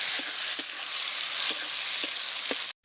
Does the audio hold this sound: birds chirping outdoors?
no